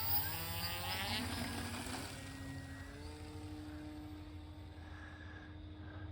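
An E-flite Slow Ultra Stick RC airplane flies overhead, its electric propeller buzzing steadily with a tone that shifts as it passes, loud at first then settling to a fainter, even drone in fading evening light.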